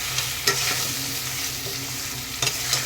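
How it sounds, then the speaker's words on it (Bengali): Potatoes fry with salt and turmeric in a pan, a steady close sizzle broken by a few scraping stirs of a spoon. "আর এখন আলুটা অনেকটা ভাজা হয়ে গেছে, দিয়ে দেবো স্বাদ মতো লবণ, দিয়ে দেবো হলুদ, দিয়ে আর একটু ভেজে নেব।"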